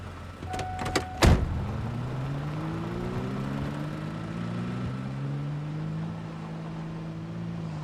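A steady truck engine drone with rising revving tones in the video game Project Zomboid, preceded by a few sharp clicks and a thud near the start.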